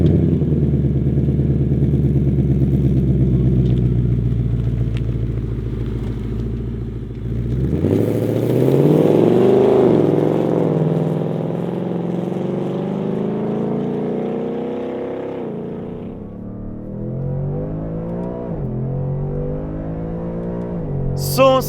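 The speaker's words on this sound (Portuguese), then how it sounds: "sempre embalados pelo inconfundível som do motor V8" A Ford Mustang Mach 1's deep, rumbling V8 engine idles steadily, then revs up loudly with a rising growl before settling back to a lower burble.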